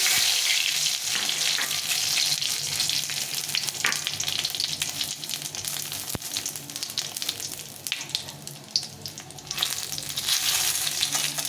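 Dried red chillies, cumin seeds and a bay leaf sizzle loudly in hot oil, a dense continuous crackle close up with scattered spits and pops, no voices.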